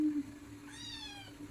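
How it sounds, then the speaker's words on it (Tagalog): A kitten lets out a single clear, rising-then-falling meow close up, preceded by a brief low hum, in a quiet kitchen setting. "kuting."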